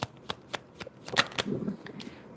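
A deck of oracle cards being shuffled by hand, a series of crisp riffling snaps and soft slides in quick bursts, close and clear with no talk.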